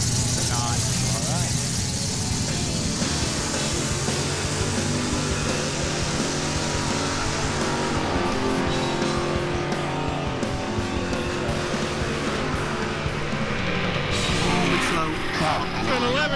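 A 1946 Chevy truck with a 509ci big block and nitrous at a drag racing event, its engine roaring loudly and continuously under crowd noise and announcer speech throughout.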